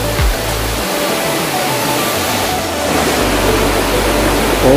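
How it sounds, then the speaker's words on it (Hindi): Small waterfall beside a living root bridge in Mawlynnong, Meghalaya, a constant loud rush of falling water. "यहाँ से वाटरफॉल भी है"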